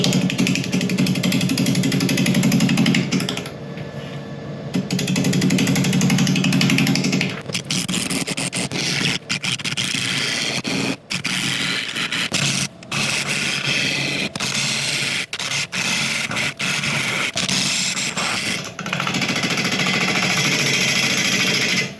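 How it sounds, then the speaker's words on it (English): A hard apple wood log spins on a lathe while a 3/8 inch bowl gouge bites into the end grain, giving a loud, rough, chattering scrape broken by sharp knocks and brief pauses. "I'm starting to turn with a 3/8 inch bowl gouge"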